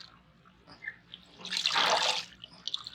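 Water runs and drains from freshly washed mustard greens set in a basket for a Punjabi village sarson ka saag, a brief splashing burst building in the middle of the clip with quiet surroundings and no talk.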